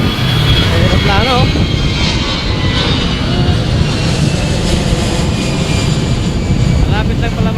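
An airplane passes overhead with a loud, steady roar that fills the whole stretch without fading, while voices talk faintly beneath it.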